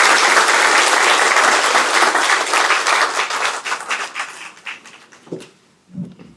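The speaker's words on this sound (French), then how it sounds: "sous vos applaudissements" Audience applause at a government gathering with Ousmane Sonko in Senegal, loud dense clapping that thins out and fades to a few scattered claps at the end.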